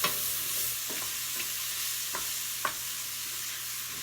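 Rice and garlic toast in a hot pan for a lamb risotto, giving a steady soft sizzle with a few scraping stirs of a utensil, heard alone and close.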